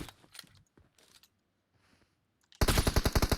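Rapid automatic gunfire in PUBG Mobile on the Livik map, a loud, close burst of fast repeated shots that bursts in suddenly near the end after a quiet stretch of faint, scattered clicks.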